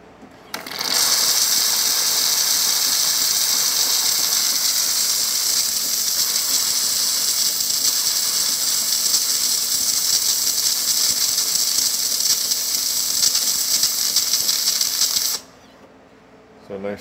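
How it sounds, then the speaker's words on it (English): A Jura J9 espresso machine's steam wand hisses strongly and steadily for about fifteen seconds, loud and close, with a faint mechanical rattle underneath, starting and stopping abruptly. "So nice strong steam."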